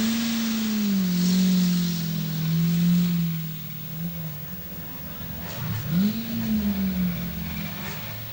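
A powerful 3.5 litre Rover rally car engine, 1984 Trossachs Rally, idles with a steady low drone and rises in revs as it lines up at the start line, with a gruffer burst of throttle late on.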